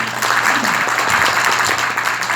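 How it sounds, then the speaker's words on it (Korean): Audience applause fills a Korean seminar or presentation hall, a steady dense wash of clapping lasting a couple of seconds with a faint voice underneath. "박수 한번 주세요."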